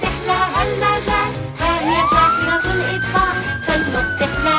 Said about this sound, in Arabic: ها هي شاحنة الإطفاء، فلنفسح لها المجال.